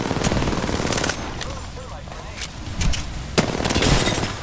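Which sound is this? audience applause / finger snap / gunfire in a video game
gunfire in a video game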